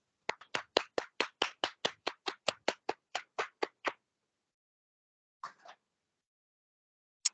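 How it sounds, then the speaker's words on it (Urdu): A church congregation claps to welcome the preacher: a steady, brisk run of about seventeen sharp, even claps for four seconds, then silence broken by a short clap burst and a final single clap. "تالیوں کے ساتھ خدا کے خادم کو دعوت دیتے ہیں."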